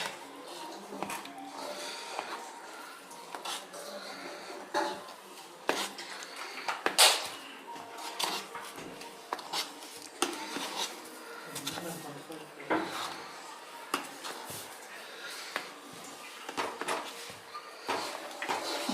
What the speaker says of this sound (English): Let's mix this nicely to form a dough.